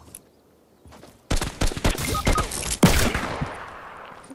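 Hunting rifle fire in a Fortnite match: after quiet shuffling, a loud cluster of sharp gunshots and impacts breaks out, followed by one more heavy crack that rings out and fades.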